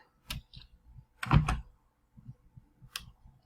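Typing on a computer keyboard: scattered soft key clicks with a louder cluster of taps in the middle, close and quiet, no talk.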